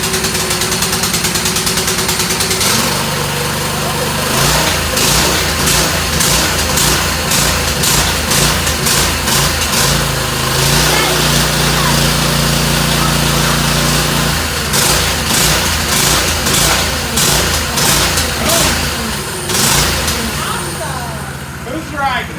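A Coleman BT200X mini bike engine idles steadily while warming up on its first run, a close, loud, buzzing putter that persists throughout, with people talking nearby over it.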